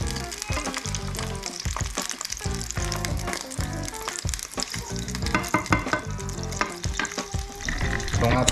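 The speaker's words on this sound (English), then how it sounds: "So we need to cook this one in a slow fire." Beef tapa fries in a pan over a low flame, giving a dense, continuous close-up sizzle and crackle with occasional stirring scrapes and no talk.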